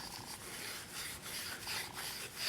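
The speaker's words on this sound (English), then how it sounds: "We're going to spray a little bit in there and then try to clean it with the steel wool." Steel wool scrubs a small Briggs & Stratton 6.5 hp engine carburetor sprayed with cleaner, making faint, close, rhythmic rasping strokes with no talking.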